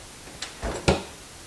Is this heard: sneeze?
no